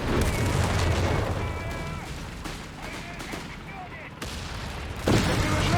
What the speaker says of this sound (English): Panzer fire here!